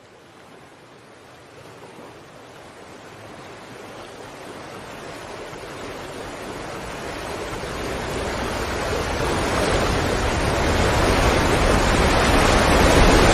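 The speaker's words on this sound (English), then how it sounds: "Skyfall has some great examples of ASMR moments. Again, the water and rain sounds." Rain and rushing water from a scene in the James Bond film Skyfall, a broad steady hiss that starts soft and swells gradually louder, with no voices.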